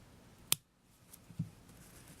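Scissors snip off a crochet yarn end: one sharp, close click, then a softer second snip a moment later, in a quiet room.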